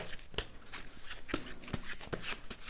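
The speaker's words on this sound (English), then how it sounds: "let's shuffle some tarot cards first" Tarot cards being shuffled by hand close up, a quiet run of papery riffles and sharp flicks and taps in an uneven rhythm, with no talk.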